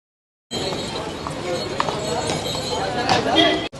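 Horse hooves clip-clop at a horse day event held at a college campus in Kerala, a steady moving beat under continuous crowd noise and nearby talk.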